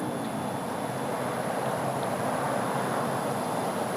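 Strong wind blows outdoors at an RC plane flying test, a loud steady roar over the microphone that lasts throughout, with no voices.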